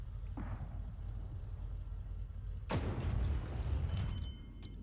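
A tank destroyer's main gun fires a single loud, booming shot in World of Tanks Blitz, with a faint earlier thump and rumbling engine noise around it.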